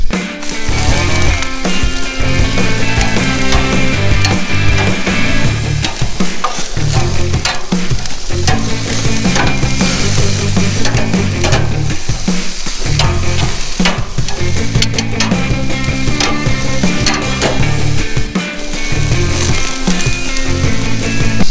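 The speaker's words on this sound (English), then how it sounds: "We're literally just gonna grill them until they got like a nice pretty charcoal all the way around" Bratwursts sizzling and popping on a hot barbecue grill, a dense, loud, continuous crackle with sharp spits and bursts throughout, heard up close with no talking.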